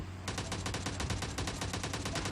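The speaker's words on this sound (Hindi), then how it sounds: "चलिए दोस्तों इस घर की छत से हम उस पर फायर करेंगे" Rapid automatic gunfire in the mobile shooter game PUBG Mobile Lite, a fast, steady string of sharp shots fired from a rooftop, loud and continuous after a brief quiet start, with no talking.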